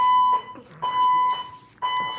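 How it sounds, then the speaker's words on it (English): A false fire alarm sounds in an apartment building in Toronto: a loud, piercing electronic tone in long blasts of about half a second to a second, broken by short gaps and repeating without letup. "false fire alarm"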